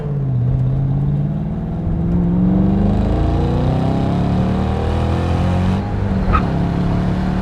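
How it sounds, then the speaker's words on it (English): A 2014 Shelby GT500 with a supercharged V8 revs and climbs through the gears, a loud rising roar with supercharger whine at higher RPMs as it accelerates, heard from inside. "You can really hear that supercharger whine when you get higher up into the RPMs too."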